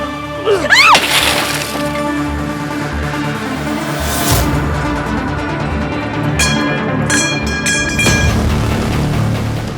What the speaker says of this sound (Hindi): अपनी गाड़ी का शीशा कौन तोड़ता है?